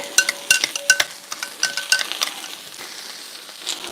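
Cabbage for Irish colcannon sizzles in a pan while a utensil scrapes and clinks against it in quick, irregular strokes, the stirring easing off toward the end under a steady frying hiss.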